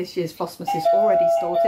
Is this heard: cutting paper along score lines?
no